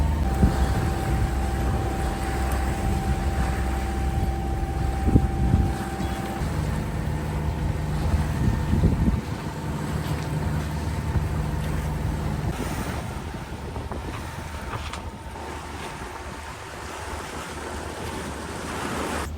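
Steady engine drone and rushing water of a boat under way at sea off the southern tip of Okinawa, Japan, wind noise throughout, with a low motor hum that shifts partway through.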